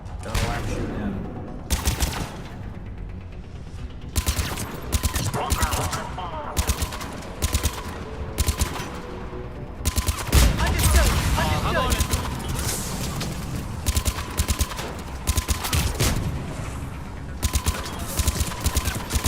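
Weapon fire in Mass Effect 3 combat, repeated bursts of rapid automatic shots in stop-start rhythm, loud and close, with someone talking and background music mixed in.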